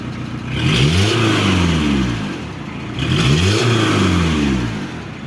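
A Peugeot Expert van engine revs twice in rising and falling sweeps, with a leaking exhaust adding a raspy, blatting edge to each loud, close burst.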